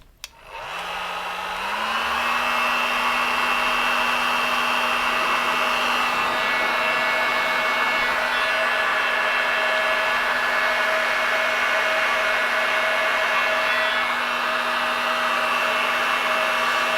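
A heat gun blows steadily to shrink heat-shrink tubing over 9-volt battery clip wires on a bass guitar, starting with a click and a rising whine that settles into a loud, constant whirring hum with no voices.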